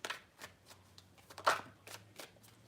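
Close, quiet tarot card shuffling: a string of soft, evenly spaced card flicks and slaps, one slightly louder, with no voices.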